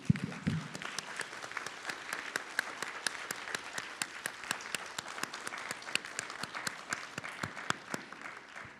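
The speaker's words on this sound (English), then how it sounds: "Let's give a round of applause for everyone." Steady applause from a crowd, dense clapping that continues evenly throughout with no talking.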